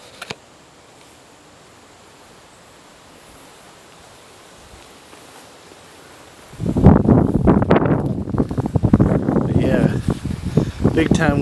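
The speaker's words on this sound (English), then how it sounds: "Big time wind coming in." Strong wind gusting through garden bushes in Florida ahead of Tropical Storm Beryl, starting as a soft steady hiss and then surging into loud, roaring, buffeting gusts for the second half.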